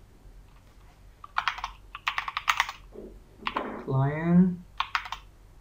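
Computer keyboard typing while Python socket code is written, with quick bursts of close, crisp keystrokes and someone speaking between the bursts.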